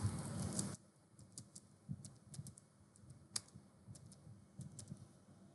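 Faint, sparse keystrokes tap on a computer keyboard in a quiet room, coming as scattered single clicks after a brief louder burst of noise at the start.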